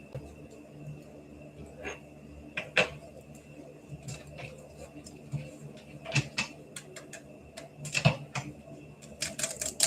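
Tarot cards are taken out and handled close by, making irregular light clicks, taps and soft slaps of card stock on a surface, scattered through a quiet room.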